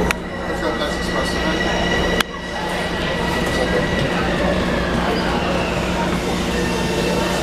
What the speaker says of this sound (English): That's the express train, yes.